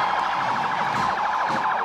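An ambulance in a vehicle parade sounds its siren: a rapid, loud warbling wail that repeats steadily and sounds fairly near.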